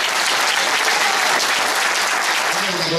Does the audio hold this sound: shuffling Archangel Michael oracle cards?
no